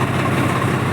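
A tractor engine idles on a cold winter day, giving a steady, close, fairly loud low rumble that holds unchanged through the whole second.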